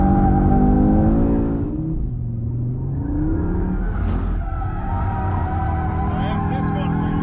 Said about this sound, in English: Oh, a lot more of that oversteer. A lot more tire squeal too.